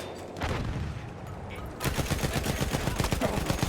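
Battlefield One gunfire: a sustained burst early on, then a rapid, dense stream of automatic shots that continues to the end, loud and close.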